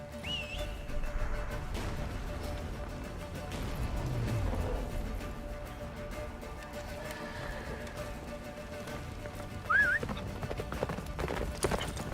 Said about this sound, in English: Oh no, don't make me ride a horse. I'm horrible at riding horses.